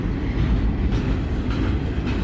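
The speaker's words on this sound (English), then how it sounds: "It looks like they're moving train cars." A Canadian National freight train moves rail cars through Effingham, Illinois, with a heavy, continuous low rumble and faint clicking of wheels, steady and fairly close.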